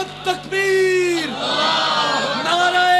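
A large crowd bellows a loud collective response to a Takbir slogan at a religious gathering in honour of Maulana Usman Ghani, sustained voices filling about three seconds after a brief lead-in call.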